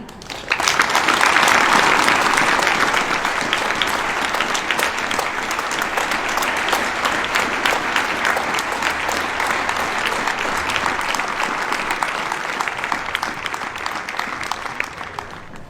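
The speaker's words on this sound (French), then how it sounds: "notre bourgmestre et ami Alfred Gaden, vos chaleureux applaudissements." Warm, sustained applause from an assembled audience at a memorial tribute to a late burgomaster, a steady dense roll of clapping that swells early and then holds evenly for over fifteen seconds with no voices on top.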